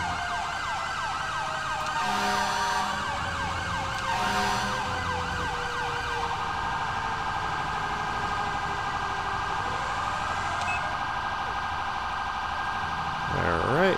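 A Federal Q fire truck siren on a GMC TopKick C4500 in GTA 5 wails up and down, then shifts to a steady tone, with engine rumble and game-like effects underneath; a brief yelp near the end.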